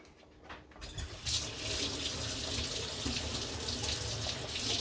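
Kitchen tap turned on to rinse a spoon used for spaghetti sauce: a small clink, then a steady rush of running water splashing into the sink, close and continuous.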